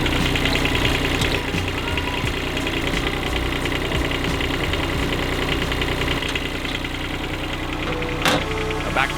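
A hydraulic machine used to scrape dirt for a mountain bike jump idles loudly nearby, a rough, knocking engine rumble that holds steady throughout with a sharp clank near the end.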